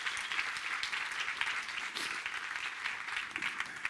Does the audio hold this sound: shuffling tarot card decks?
no